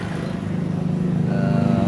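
A Suzuki Satria FU motorcycle engine with an intentionally stuttering, choppy exhaust note at low speed, its pulsing idle-like beat close and steady, slightly rising in level toward the end.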